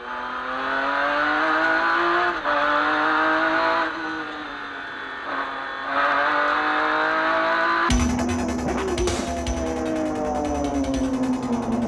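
A 1997 McLaren F1 GTR race car at Paul Ricard circuit accelerating hard, its engine note climbing and dropping through several gear shifts, loud and close, with a sharp change in tone near the end.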